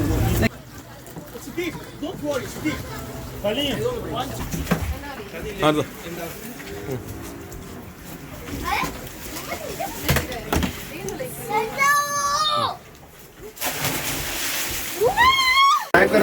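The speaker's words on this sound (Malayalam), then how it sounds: "ഇതാണ് ബനാന റൈഡ് എന്ന് പറഞ്ഞാൽ." A banana boat ride on the sea near Musandam, with water splashing and sloshing and a boat engine, while people talk and shout throughout.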